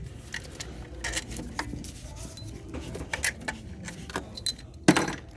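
Metal bolts taken off a transmission control module on a 2012-2018 Ford Focus and handled, with scattered close metallic clinks and jingles and a few louder knocks.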